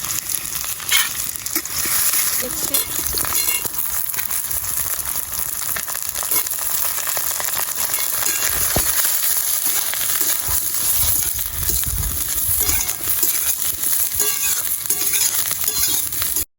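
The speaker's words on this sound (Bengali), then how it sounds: "দু মিনিট মতন বেগুনটা নেড়ে নিলাম কড়াইতে" Eggplant with split green chili and crushed garlic fries and is stirred in a wok, a steady loud sizzle with scraping stirs running throughout, no voices.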